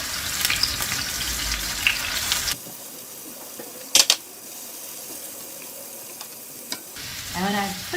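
King oyster mushrooms laid cut side down in a hot pan give a loud, broad sizzle for the first seconds. The frying then drops to a quieter steady hiss, broken by a couple of sharp clinks near the middle.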